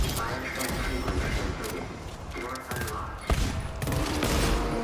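Gunfire in a Rundown solo co-op shooter match with bots: dense, loud bursts of shots fill the whole stretch, with a heavier thump near the middle and a voice talking underneath.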